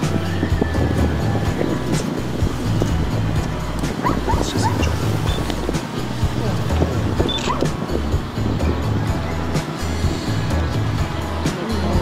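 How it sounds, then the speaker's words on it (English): A dog barks and yips in the distance amid early-morning outdoor ambience in Egypt, heard from a hot air balloon, with a low engine hum and other faint sounds underneath. "And a dog."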